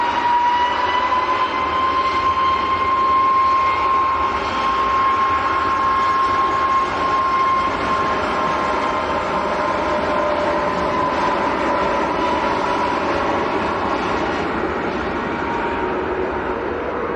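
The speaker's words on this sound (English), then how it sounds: "Got a Dreamliner taxiing out as well." A Boeing Dreamliner airliner taxis at Manchester airport, a steady loud jet engine whine and rumble with a sustained tonal hum, heard continuously from a distance with no voices.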